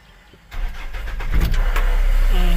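A Mahindra Bolero pickup with a BS4 engine and a repaired ECM wiring fault cranks briefly after a quiet moment, then catches and settles into a loud, steady idle close by.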